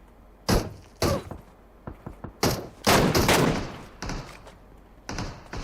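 Several loud gunshot bursts in PUBG Mobile, with sharp single cracks and a longer rattling volley in the middle, spaced irregularly across the clip.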